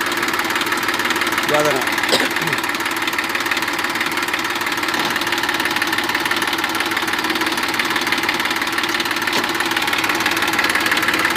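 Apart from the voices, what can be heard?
Massey Ferguson 241 DI tractor engine running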